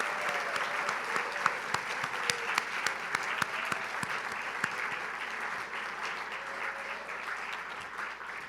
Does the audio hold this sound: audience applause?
yes